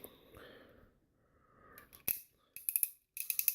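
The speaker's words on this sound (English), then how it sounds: "Really like the clicking noises here." Transformers Masterpiece Inferno toy parts snap and click as they are moved, in sharp bursts of several crisp clicks after a quieter stretch of soft handling rustle.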